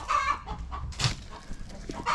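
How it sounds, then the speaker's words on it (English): Chickens squawk and cluck beneath a roof under construction, several short agitated calls from close by that come in bursts with brief gaps. "we got all the birds underneath us squawking"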